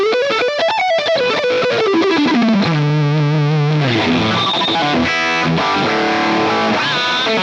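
High-gain electric guitar through a Lovepedal Mosferatu overdrive pedal, thick and saturated, plays a loud sustained lead line with sliding bends and held notes, up close and alone.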